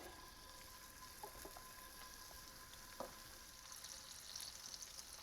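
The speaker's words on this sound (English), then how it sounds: "let's get these meatballs starting to cook" Meatballs fry in a skillet with a faint, steady hiss and light crackle, a few soft pops and a small knock over a constant low hum.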